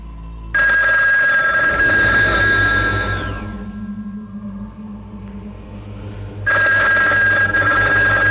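A telephone bell rings loudly and steadily in a horror drama, breaks off into a low rumbling pause, then starts ringing again at full volume, with no one speaking.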